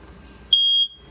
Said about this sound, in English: And then your smoke detector itself is just right up here.